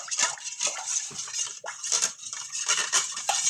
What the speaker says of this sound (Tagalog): Tapos haluin natin guys